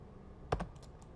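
Two or three brief, close key presses on a computer keyboard while typing a command in 3D modeling software, a quick pair of taps followed by a few softer clicks in a quiet room.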